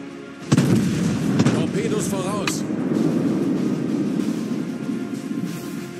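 Battleship main guns firing shells aboard the USS Massachusetts in the naval game World of Warships, a heavy booming salvo followed by a sustained low rumble, with someone talking over the noise.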